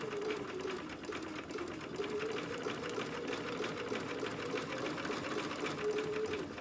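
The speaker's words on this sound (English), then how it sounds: "I'm just gonna sew with that." Sewing machine stitching fabric for a dog outfit, a fast steady mechanical whirring and rapid needle clatter running continuously, close and moderately quiet, with no talking.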